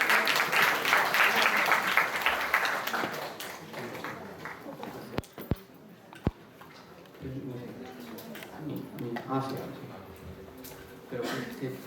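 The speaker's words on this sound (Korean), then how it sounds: "큰 박수 부탁드립니다" Audience applauses at the opening of a lecture: broadband clapping that is dense for the first few seconds and then thins out. Scattered taps and talk follow, and voices are heard in the clip.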